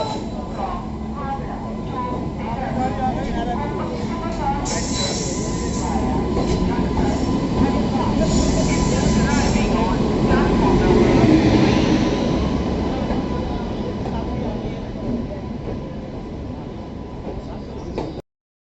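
A passenger train rolls into a railway station platform via Rampur toward Bareilly Junction, a broad rumbling and clattering that swells toward the middle and fades, with voices and an announcement mixed in.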